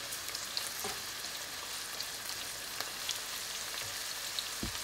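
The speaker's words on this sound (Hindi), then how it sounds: "तो अब इसमें हम डालेंगे चॉप्ड किए हुए अनियंस जो मैंने मोटे मोटे चॉप किए हैं।" Chopped onions for chilli paneer frying in oil and being stirred, a steady quiet sizzle with scattered light clicks and taps of the spatula, no voices.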